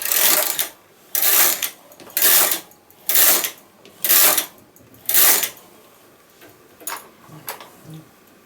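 A knitting machine carriage is pushed back and forth across the bed for six rows, giving six regular whooshing, clattering passes about a second apart, followed by a few lighter mechanical clicks.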